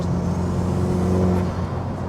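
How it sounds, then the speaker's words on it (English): A turbocharged four-wheel-drive Peugeot 206 GTi with an Audi engine drones and revs steadily up close, with a low rumbling exhaust burble underneath and no voices. "then you get a nice burble from the exhaust"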